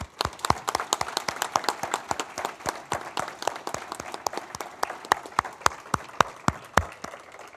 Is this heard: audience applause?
yes